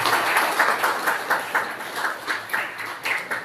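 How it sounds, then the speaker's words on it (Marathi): Audience clapping steadily through a felicitation ceremony at a Gomantak Gaud Maratha Samaj press conference, a dense, even patter of many hands with small swells, moderately loud and continuous, with no talk over it. "जोपर्यंत हे सन्मान होत आहेत आपण आपल्या टाळ्या वाजवत राहू"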